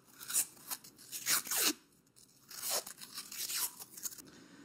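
Masking tape being torn and wrapped around an anodized shock preload adjuster on a BMW F800GS, a series of close crinkling, ripping strips in irregular bursts with short pauses between them, no talking.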